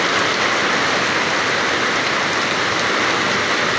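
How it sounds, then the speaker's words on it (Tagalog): Heavy rain pours down at a beach in a sudden downpour, a dense, constant hiss of drops hitting the ground, loud and unbroken throughout. "Kanina mainit pa, tapos bigla na lang umulan."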